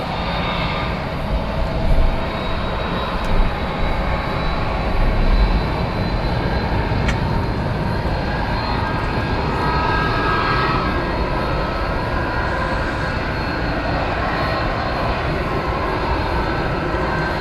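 Two UPS jet airplanes at DFW airport, a steady loud engine roar that holds for the whole stretch with slight swells, heard from a distance in the open air without talk.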